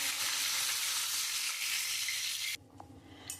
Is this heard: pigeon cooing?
no